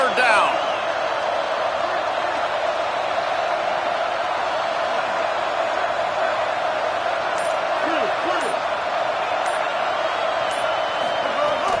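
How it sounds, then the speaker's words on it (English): Loud football stadium crowd roaring on a third down at a Texas Tech game, a dense, unbroken wash of noise with voices mixed in. "The crowd electric trying to help Tech on this third down."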